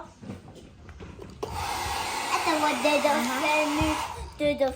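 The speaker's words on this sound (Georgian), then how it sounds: "ფენით უნდა გავაშვათ, ხო?" A hair dryer switches on partway through and blows with a steady, close whir. Faint voices and handling noises come before it.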